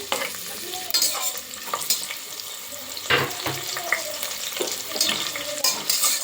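Green chilies and onion frying for pulao in a pan, a continuous sizzle with repeated scraping stirs and occasional clinks of the utensil against the pan, close up and without talk.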